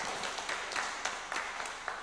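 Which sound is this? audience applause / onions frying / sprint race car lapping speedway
audience applause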